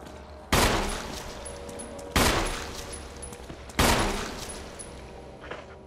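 Three loud, close gunshots a second or so apart, each with a decaying tail, from the video game Resident Evil HD Remaster on PS4; no voices heard.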